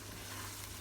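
Tomato sambal with salted squid sizzles steadily in a pan as it is stirred, a close, even frying hiss with soft scraping under it and no voices.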